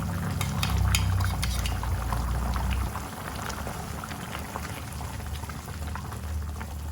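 Meat simmering in broth seasoned with palm sugar, salt and stock powder for sate, a steady close bubbling boil with faint clinks and liquid movement throughout.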